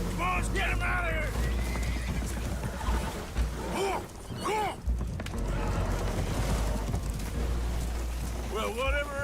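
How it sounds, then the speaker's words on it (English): Spooked horses whinny and neigh repeatedly aboard a damaged boat taking on water in Red Dead Redemption 2, loud shrill calls over a steady low rumble of wind and water. "Horses are spooked"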